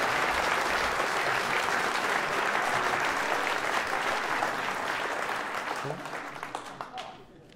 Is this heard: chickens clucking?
no